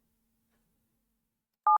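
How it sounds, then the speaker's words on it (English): Two short electronic touch-tone beeps sound from a telephone keypad in a TKKG video game, crisp and close after near silence. "we should dial a wrong one once"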